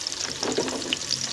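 Chopped onions fry in hot oil for a white lobia curry, giving a steady close sizzle with light stirring scrapes and small crackles.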